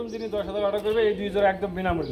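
Pigeons coo softly underneath a person speaking nearby, their low murmuring calls blending with the voice.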